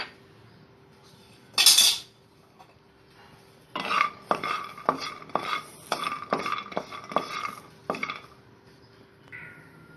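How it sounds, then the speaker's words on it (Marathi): Hazelnuts roasting in a hot pan are stirred, giving a series of rhythmic scraping clinks and rattles close up, preceded by one brief sharp clatter, with no talking. "इथे पॅन गरम करत ठेवलेला आहे, त्यामध्ये आपण हे हेझलनट आहेत ते आपण थोडेसे रोस्ट करून घेणार आहोत।"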